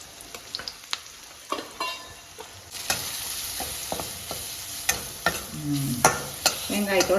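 Curry masala with chili, coriander and turmeric powders sautéing in a pan for a chapati gravy, soft sizzling broken by frequent spatula scrapes and stirring knocks, close and clear with no talking.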